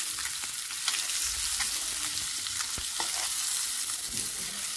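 Fish pieces frying in hot oil, a steady close sizzle with occasional light taps and pops throughout, no one speaking.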